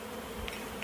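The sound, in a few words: remnant bees buzzing and flying around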